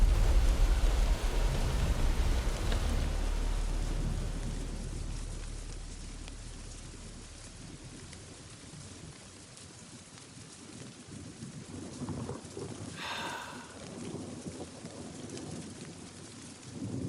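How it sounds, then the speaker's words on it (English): Steady heavy rain hisses throughout a horror short film, with a deep thundery rumble at the start that fades away, leaving the even downpour on its own. "It was raining, and of course, I hadn't brought an umbrella."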